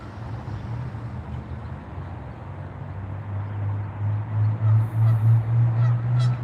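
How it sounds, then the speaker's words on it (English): Geese honk repeatedly outdoors in Canada, a run of loud, close, nasal calls growing stronger and more rhythmic toward the end over a low background rumble. "The goose is like fighting with his wife."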